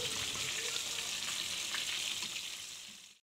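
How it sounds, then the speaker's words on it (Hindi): KFC-style chicken pieces fry in hot oil with a loud, steady crackling sizzle that fades out at the end. "इसी तरह मैं बाकी के सारे चिकन पीसीस को भी फ्राई कर लूँगी क्रिस्पी गोल्डन होने तक"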